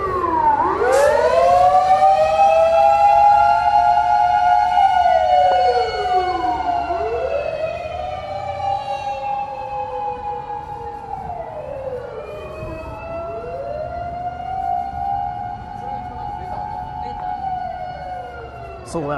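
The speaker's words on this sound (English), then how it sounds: "Siren, yeah. Which is typical at night." A loud siren near a park in Tokyo at night sweeps slowly up and down in long wavering wails, fading a little as it goes on.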